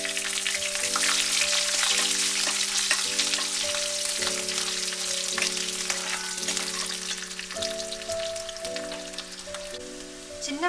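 Curry leaves and garlic fry in hot oil for a green pepper gravy, a dense, steady crackling sizzle close up, with sustained musical tones playing underneath.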